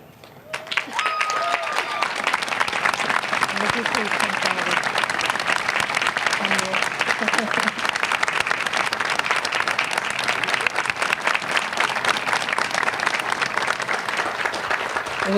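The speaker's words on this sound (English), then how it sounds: "Well-deserved applause." Sustained audience applause fills a university spring commencement ceremony at UNC Asheville, a dense steady wash of clapping from a large crowd that swells after a brief quiet start and carries on evenly throughout.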